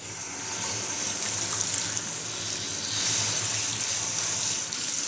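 Steady running water rinsing hair dye out of long hair, a constant close splashing hiss with no pauses.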